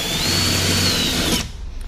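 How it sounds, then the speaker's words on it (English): A power drill whines steadily, drilling holes in a boat hull to mount a rudder. It runs loud and close for about a second and a half, then cuts off abruptly. "I'm going to go ahead and drill."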